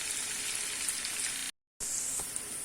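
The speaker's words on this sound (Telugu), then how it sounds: "బాగా ఫ్రై అవనివ్వండి" Corn fried rice fries in a pan with a dense, continuous sizzle, broken once by a brief moment of silence before the sizzling resumes.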